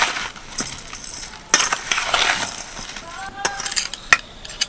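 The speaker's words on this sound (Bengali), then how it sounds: "এবার এই আমলকিগুলোর গায়ে যাতে চিনিটা ভালোভাবে লাগে তার জন্য আমি এইভাবে মিশিয়ে নেব।" Amla, Indian gooseberries, being tossed and mixed with sugar in a bowl, giving a soft gritty scraping and rustling with a few sharper clinks of the spoon, close and moderately loud, with no talking.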